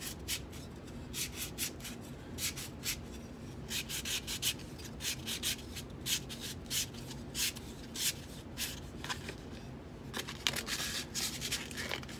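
A wooden turkey pot call is sanded by hand in close, steady back-and-forth strokes, each rasping scrape repeating in a quick, even rhythm with no talking.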